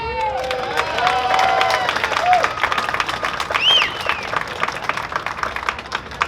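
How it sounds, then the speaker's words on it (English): Outdoor crowd applauding and cheering at the Hollywood Walk of Fame star ceremony for Burt Ward, steady clapping with whoops and whistles, fairly loud and close, slowly thinning out. "let's give a round of applause for actress Kathy Garver"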